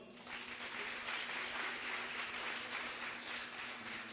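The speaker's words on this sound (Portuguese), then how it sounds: "Vamos aplaudir o Senhor." A church congregation at Igreja Novo Tempo in Recife, Brazil, applauding in a steady, dense wash of clapping that holds for a few seconds, with a faint tone underneath.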